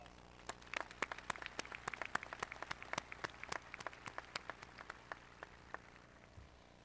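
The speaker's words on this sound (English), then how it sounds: "let's give everyone a round of applause" Scattered hand claps from a small crowd at a graduation ceremony, sparse and uneven, tapering off near the end with no voices over them.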